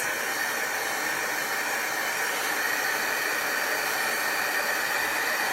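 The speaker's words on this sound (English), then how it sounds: "you can use our quick dry tool or any heat tool" Steady, loud blowing hiss of a hot-air heat tool drying chalk paint, running continuously, with no pauses or voices.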